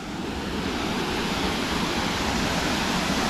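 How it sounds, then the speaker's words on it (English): Fast water pours down over rocks at a waterfall by a flooded campground river, a dense, steady roaring rush that stays loud and unbroken throughout, with no voices. "The water's coming down very fast."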